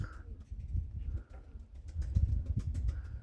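A pigeon flies outdoors, with soft flutters and faint low cooing under light background noise and some thumping.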